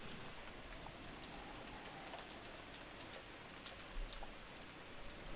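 Rain falls steadily and softly outside a mansion in the video game Umineko, an even patter of drops with faint scattered ticks throughout.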